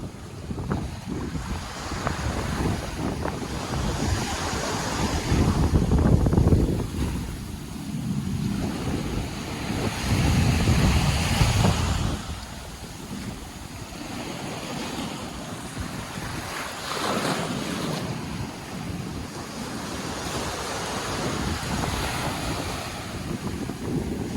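Ocean waves at high tide wash onto a resort beach in the early morning, rolling surges swelling and receding in slow cycles under steady wind buffeting the microphone, with no voices.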